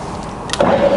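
Bridgeport milling machine with a variable speed head starting up, a brief click followed by a steady, close motor hum that settles into a smooth tone.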